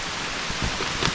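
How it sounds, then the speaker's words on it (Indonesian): Rain falls steadily on a mountain trail on Gunung Ciremai, a dense, close wash of droplets with a few soft thuds in a brief burst. "Kondisi hujan."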